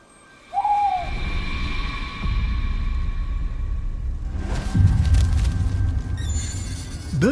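An owl hoots at night in a garden: one clear call early on, followed by a steady background rumble and some later clatter.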